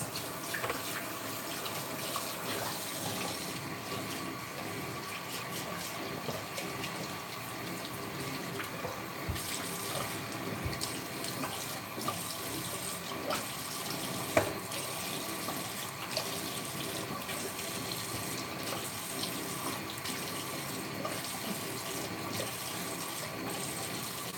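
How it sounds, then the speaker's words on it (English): Running tap water pours steadily into a sink while a face is rinsed, a continuous close splashing rush lasting over twenty seconds with small irregular splatters and no talking. "Now I'm gonna rinse."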